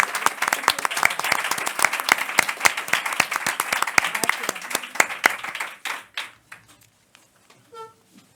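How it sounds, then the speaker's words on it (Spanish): Applause for the organizers at the close of a talk on translators in publishing, dense clapping from an audience that carries steadily for about six seconds, then thins to a few scattered claps and fades out. "Un aplauso a los organizadores."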